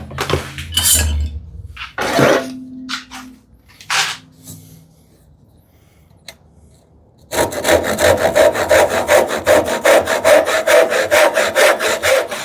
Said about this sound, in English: I'll be sawing this because these are so narrow that I found sawing is like